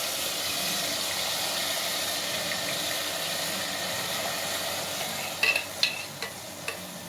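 Onions frying in hot oil for spaghetti sauce, a steady close sizzle with a few clacking stirs near the end.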